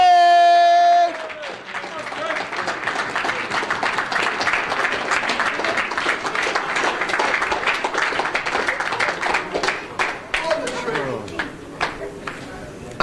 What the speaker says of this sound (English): can we please have a big round of applause for the winner of GUKPT Manchester, Rick Trigg!